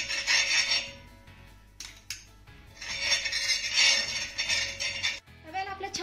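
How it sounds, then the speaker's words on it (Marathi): A little oil being rubbed across a hot griddle pan before eggplant slices are laid on to roast, making close scraping and rubbing strokes in long bursts with brief pauses, ending with a short clatter. "आता यावरती आपल्याला थोडंसं तेल लावून घ्यायचं आहे."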